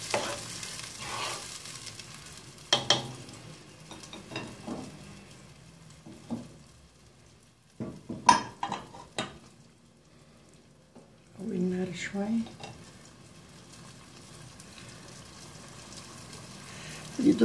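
Tomatoes stirred in a pan with onion and garlic for lentil and broccoli soup: intermittent scraping stirs and a soft sizzle, close by, with pauses between bursts.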